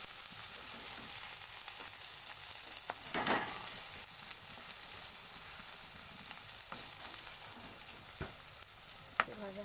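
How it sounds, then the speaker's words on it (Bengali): Shrimp fry in a pan with a soft, steady sizzle that stays fairly faint, broken by a few sharp clicks and scrapes of stirring. "একটু ভেজে নেব"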